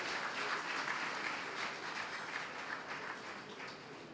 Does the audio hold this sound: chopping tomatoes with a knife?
no